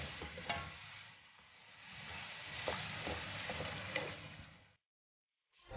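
Tomatoes drop into a pan of sizzling chicken and eggplant, giving a steady close frying hiss with a few stirring clinks before the sound cuts out near the end.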